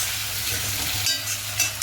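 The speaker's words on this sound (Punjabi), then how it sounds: "ਇਧਰ ਆਪਾਂ ਨਵੇਂ ਫਰਾਈ ਪੈਨ ਦੇ ਵਿੱਚ ਰੱਖਿਆ ਤੜਕਾ" Tempering sizzles in a new frying pan, a continuous close crackle of hot oil with faint stirring, briefly flaring louder near the end.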